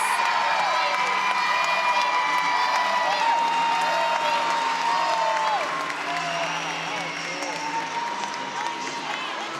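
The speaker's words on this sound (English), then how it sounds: "You hear the fans." Fans at an NCAA women's gymnastics meet between Ohio State and NC State cheer, whoop and applaud in a steady, full arena roar that runs throughout, with commentators talking over it.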